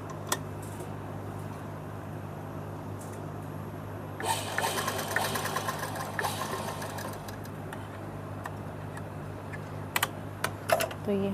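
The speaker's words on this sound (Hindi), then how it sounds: "तो अब हम अपनी डोरी को यहीं पर ही इसे सही से सिल लेंगे।" A sewing machine stitches a drawstring onto a child's top, whirring in a rapid burst of stitching for about two seconds, then giving lighter intermittent clicks and short runs.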